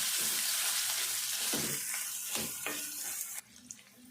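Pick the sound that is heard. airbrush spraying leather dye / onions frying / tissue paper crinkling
onions frying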